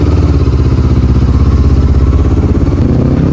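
A motorcycle engine, a GSX150, CBR150 or R15 class sport bike, is revved steadily to warm up, a loud, close, continuous throbbing roar with pulsing harmonics held throughout and no voices.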